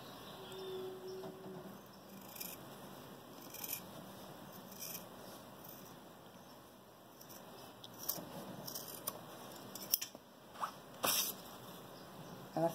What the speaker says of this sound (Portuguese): E vamos cortar.